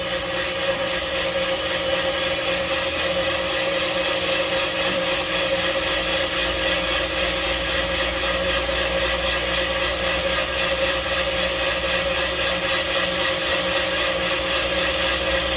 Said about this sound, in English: You'll hear an interrupted cut as that goes through the block in the bottom, because it's not casted perfect.